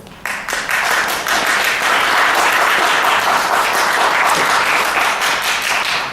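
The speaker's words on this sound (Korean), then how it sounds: "박수는 많이 칠수록 감사하겠습니다." Loud, close applause from a forum audience at an international conference hall, many hands clapping in a full, continuous burst that holds steady for several seconds.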